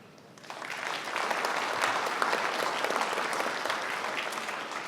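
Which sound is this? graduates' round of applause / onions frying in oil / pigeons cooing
graduates' round of applause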